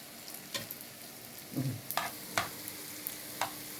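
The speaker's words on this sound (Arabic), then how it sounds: "الزيت طالما سخن تقلبي فيه كده، بصي مش هيشرب زيت خالص" Pieces of bread frying in very hot oil for Egyptian yellow lentil soup, a soft steady sizzle with a few sharp clicks and scrapes as they are turned, quiet and close.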